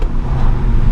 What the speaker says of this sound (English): I have to downshift and just make a big DSG bang